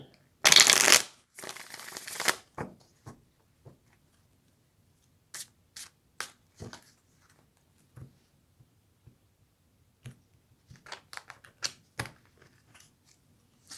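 Tarot cards shuffled for a reading, a loud burst of riffling up close followed by scattered soft taps and slides as cards are handled and laid down.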